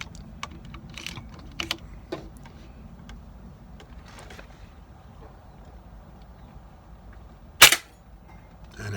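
An air gun fires a single sharp, loud pellet shot at a target near the end, against a quiet background of light clicks and handling noises.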